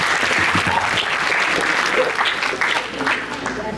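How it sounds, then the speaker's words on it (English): A crowd applauds at a poetry slam, with loud, continuous clapping and some cheering throughout, and voices faintly mixed in beneath. "Let's give her a round of applause as she comes."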